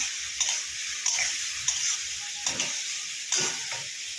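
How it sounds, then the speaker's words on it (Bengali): Ginger and cumin paste sautéing in a pan for a potato, pointed gourd and fish curry, a soft steady sizzle with a few sharp spoon taps and scrapes spaced through it, close by. "ওর জন্য একটু আদা জিরে দিয়ে কষিয়ে করবো"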